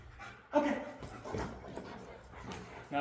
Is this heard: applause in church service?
no